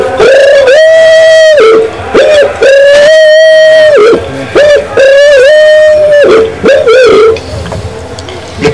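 Someone mimics a domestic turtle dove, voicing several long, loud, sustained cooing phrases up close. The phrases are separated by short breaths and brief gaps.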